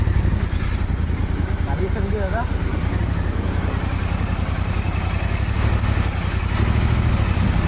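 A Royal Enfield Continental GT650 motorcycle idles with a low, steady, pulsing engine thrum, close and constant throughout, while someone talks over it.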